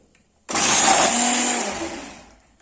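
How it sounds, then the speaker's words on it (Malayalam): A food processor chops onions for biryani masala, starting abruptly with a loud, close motor whir that holds steady for about two seconds and then winds down, with no talking. "ഫുഡ് പ്രോസസർ ഉപയോഗിച്ചാണ് ഞാൻ കട്ട് ചെയ്ത്."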